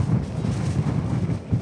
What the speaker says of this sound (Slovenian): Ti piha veter, ti piha lase